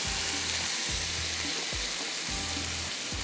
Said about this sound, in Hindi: अब इसको हम करते हैं मिक्स अच्छी तरह से